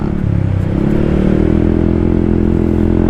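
Honda ADV160 scooter fitted with a new exhaust and no silencer revs loud and close, a steady deep bassy engine drone that holds throughout with slight rises in pitch.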